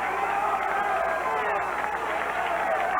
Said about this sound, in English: Well, you can really hear this crowd. They are rooting for Robert Smith